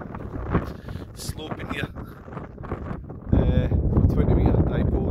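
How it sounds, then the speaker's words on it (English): Wind blows hard over an open hilltop outside Tenby, Wales, buffeting the microphone in loud rumbling gusts that surge stronger in the second half, while someone talks. "Quite windy up here, I'm quite surprised."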